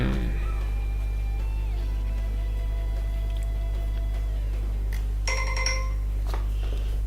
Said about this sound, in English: That's my phone, and it's gonna happen again in 1 minute.